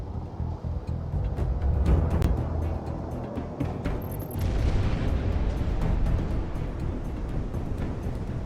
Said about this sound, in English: Monarch missile on the way.